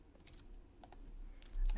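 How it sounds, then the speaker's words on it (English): Fingers tap on a computer keyboard in short, light bursts of clicks, close and fairly quiet, with a faint low hum underneath. "I can type it in here"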